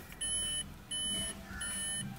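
A 2017 Volkswagen Polo's warning alarm for an ignition left on sounds as three evenly spaced, steady electronic beeps, each under half a second, clear and close with no speech.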